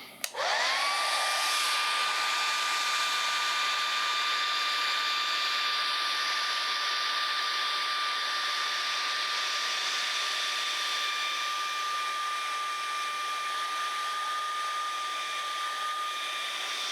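A hair dryer runs steadily on a 1994 Air Jordan 1 'Chicago' sneaker, a loud close whir with a high whine that starts abruptly and holds for a long stretch.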